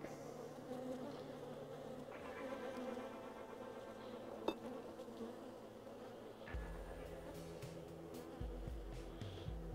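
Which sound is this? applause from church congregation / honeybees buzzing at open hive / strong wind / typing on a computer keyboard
honeybees buzzing at open hive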